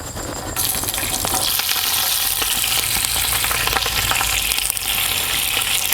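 Green chili drops into hot oil already holding cinnamon and cloves, setting off a loud, close, steady sizzle with crackling and stirring that continues throughout.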